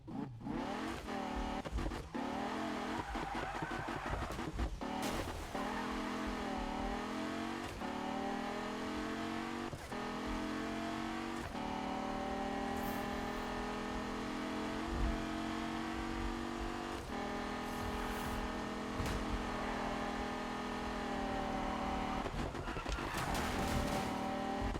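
A race car engine in the Need for Speed video game revs and accelerates continuously, with rising harmonic pitch sweeps between gear shifts and brief tire squeals, loud and close throughout.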